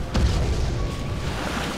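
A Grand Cannon fires in Red Alert 2, one deep booming blast that rolls out and decays over a couple of seconds amid low rumbling battle noise.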